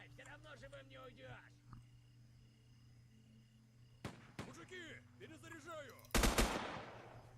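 Enemy gunfire in the Next Day Survival video game: a couple of sharp shots stand out, with a louder, denser burst near the end, heard under steady in-game background hum and intermittent talking.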